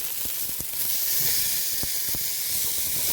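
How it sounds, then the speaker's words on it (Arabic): Washed, drained lentils hiss and sizzle steadily in hot onion-flavored oil in a pan, a continuous bright frying noise with a few soft clicks and pops scattered through it. "هبتدي ان انا اضيف العدس بتاعي المغسول والمتصفي"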